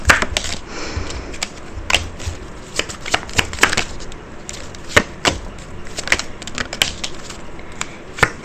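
Tarot cards being shuffled by hand, a loud close stream of sharp flicks and slaps in irregular bursts, with no talking.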